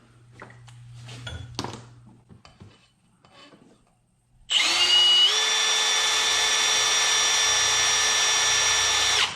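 A power drill bores a hole during a build, starting after a few seconds of quiet handling and muffled talk, then whining loudly and steadily up close, its pitch shifting slightly as it bites.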